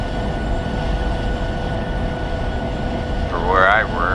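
Railroad cars coupling in the Open Rails train simulator, a continuous rumbling rail drone with a brief metallic screech near the end as the cars join, with someone talking over it.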